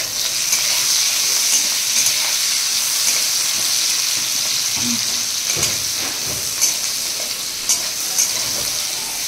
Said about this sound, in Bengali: মাছের ডিম সেদ্ধ করে ভেজে নিয়েছে, নিয়ে এখানে পেঁয়াজ দিয়ে ভাজছে।